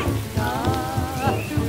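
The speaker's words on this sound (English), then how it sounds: "We're going to some caves and it's raining" Steady rain falling outdoors on the way to some caves, a continuous patter with a low rumble underneath, fairly loud and constant throughout.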